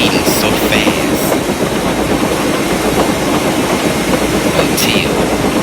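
A cartoon steam engine speeds along the rails at jet-boosted pace, a loud, steady rushing rumble with continuous clickety-clack and occasional bright whistle-like bursts throughout.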